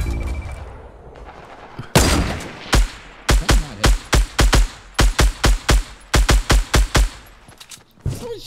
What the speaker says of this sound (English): Someone's shooting Dave from behind.